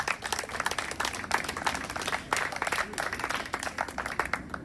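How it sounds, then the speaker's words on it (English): An audience at a club president's news meeting gives a round of applause, dense uneven clapping that swells and dips with a murmur of voices underneath. "can I have a round of applause for them and also Mark Purser and John Hubbard"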